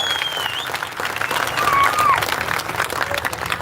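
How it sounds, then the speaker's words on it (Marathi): A crowd at a political campaign rally in Jat applauds loudly and steadily, with a couple of thin whistles rising above the dense clapping. "म्हणून देवेंद्र फडणवीस साहेबांच्यासाठी जोरदार टाळ्या आपण वाजवाव्यात, जोरदार."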